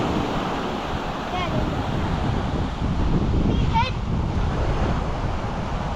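Ocean surf and wind on Fogarty Beach, a broad steady roar of waves with gusty wind buffeting the microphone, and a brief faint squeal partway through.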